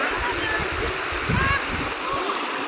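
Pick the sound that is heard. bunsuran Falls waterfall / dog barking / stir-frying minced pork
bunsuran Falls waterfall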